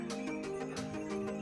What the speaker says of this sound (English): There's a horse and a guy riding a horse.